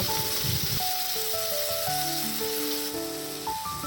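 Potato pieces fry in hot oil with dried chillies and whole cumin, giving a steady close sizzle that continues under background music.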